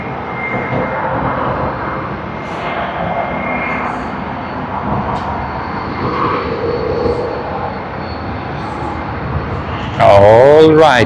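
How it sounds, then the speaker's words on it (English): A Qantas Airbus A330-200 jet at Sydney Airport produces a loud continuous engine roar that stays steady throughout, with a brief tonal burst near the end. "QF19 on the Airbus A330-200 is what we see on screen"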